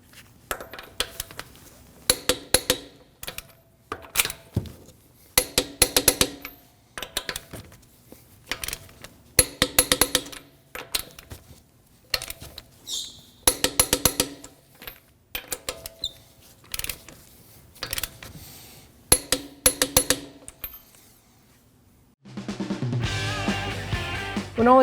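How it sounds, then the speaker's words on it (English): A torque wrench tightens wheel bolts on a 2016-2022 Honda Pilot in a star pattern, giving repeated bursts of rapid metallic ratcheting clicks separated by short pauses, close and crisp, before a different steady noise takes over at the end. "Now we can torque these in a star pattern to 94 foot-pounds using a 22 millimeter."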